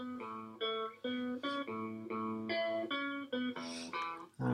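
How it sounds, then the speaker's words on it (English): Soloed lead guitar track playing back in Logic Pro X, a clean melodic line of distinct sustained notes with short gaps between phrases, steady and fairly loud with no talking. "What I'm going to do is solo this lead guitar"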